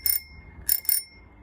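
A small period bell on a vintage pre-war Raleigh bicycle rings three times, one bright ding then a quick double ring, close and fairly quiet.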